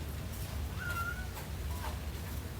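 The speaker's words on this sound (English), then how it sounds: "sorry if you can hear the meowing in the background" Pet cat Bagheera meows twice in a home kitchen, first a longer rising call, then a brief shorter one about a second later, moderately distant against a constant low hum.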